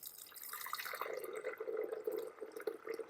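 Water from a tap pours and splashes into a bucket as the first step in mixing liquid clay slip for slipcasting, a steady moderate gurgling stream heard alone.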